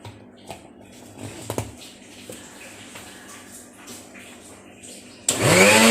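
A blender whirs loudly into life in a short, dense burst at the very end, mixing cocoa powder with powdered sugar, after several seconds of quiet kitchen room tone with a few light knocks.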